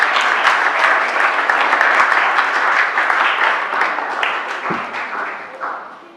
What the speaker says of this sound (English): So I want you to give yourself a big round of applause for what you did this afternoon.